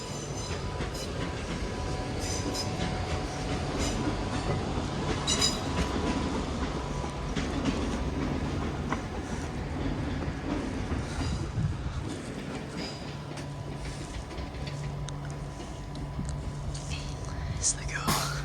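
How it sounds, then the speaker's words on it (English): Class 390 electric train 390050 pulling out of Crewe bound for London Euston, a steady rolling rumble with light clicks and faint squeals, heard at a distance under quiet voices nearby. "390050 to depart now for London Euston."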